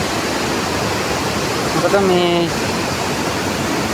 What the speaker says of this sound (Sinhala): මෙන්න මේ ඇලේ එන වතුර පාරයි